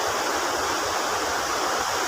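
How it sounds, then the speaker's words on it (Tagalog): Strong floodwater rushes in a steady, loud, unbroken roar of churning water close at hand, with no voices. "Ngayon lakas ng baha. Napakalakas."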